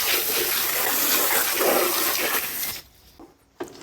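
Water sprayed from a hose over an outdoor central air conditioning unit, washed from the top down to rinse off grime, pollen and tree debris; a steady loud rush that cuts off near the end, with a short burst after.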